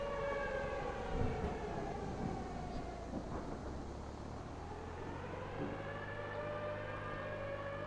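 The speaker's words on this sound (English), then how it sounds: "considering sirens are starting to go off" Tornado warning sirens wailing in the Minecraft video game, rising and falling in long sweeping tones that overlap across the storm scene, steady and moderately distant with a low rumbling bed beneath.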